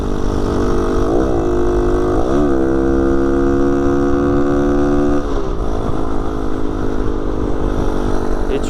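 A 125 cc motorcycle with a big carburettor rides along, its engine droning steadily and loud up close as it shifts through gears, with pitch dips and climbs and wind rush throughout.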